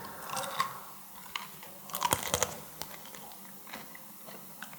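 Crunchy, irregular bites and chewing of a whole small cooked bird eaten bones and all at an Uzbek street food stall, close and fairly quiet, with sharp cracking bursts and no talking.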